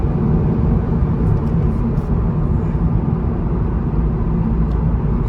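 A Toyota GR86 with stock exhaust drones steadily from inside the cabin while driving, a constant low engine and road rumble.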